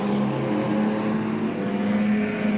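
Modified production race cars roar steadily down the back straight of Carina Speedway, a continuous loud engine drone that stays close throughout.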